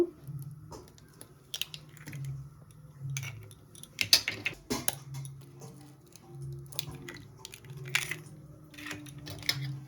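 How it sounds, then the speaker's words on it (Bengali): Eggs being cracked into a bowl while cooking egg with bottle gourd make intermittent close clicks, taps and clinks against a faint low hum, with no talking. "ডিমগুলোকে এবার আমি ফাটিয়ে নেব"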